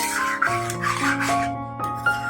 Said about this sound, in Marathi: थोडं झाकण काढल्यानंतर पुन्हा हलवून बघायची हलवायची कारण खाली लागू नये म्हणून